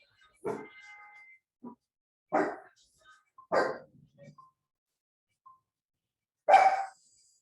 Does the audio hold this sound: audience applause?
no